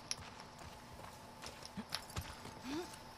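Horse hooves clip-clop in The Last of Us Part II, a few soft, uneven footfalls at a walking pace, faint and fairly close.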